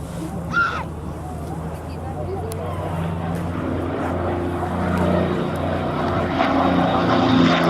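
A P-51D Mustang propeller fighter flies at an airshow at Scampton, its engine a steady droning rumble that grows gradually louder as it approaches, with faint voices in the background.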